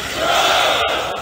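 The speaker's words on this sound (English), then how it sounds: "the crowd certainly is behind them right now" Arena crowd at an MLG Columbus CS:GO quarterfinal roars in a sustained, loud wave of cheering and shouting, a dense wall of voices filling the whole moment.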